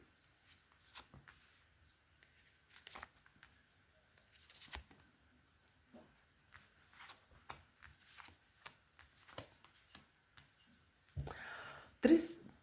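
Tarot cards shuffled and drawn in soft, intermittent rustles and flicks, close up and quiet, ending with a louder burst of card handling.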